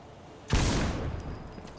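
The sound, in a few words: weapon fire from the barrel in video game Outpost Infinity Siege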